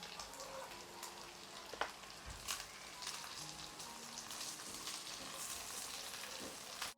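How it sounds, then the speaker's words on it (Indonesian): Turmeric spice paste with a little chili sautés in a pan, a soft, steady sizzle with occasional scraping stirs, quiet and close with no talking. "Tumis sampai harum, sampai warnanya kekuningan."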